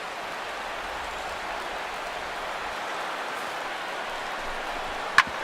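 A stadium crowd of over 39,000 in a baseball video game, MLB The Show 16, gives a steady, distant wash of cheering and murmur. One sharp click or crack lands near the end.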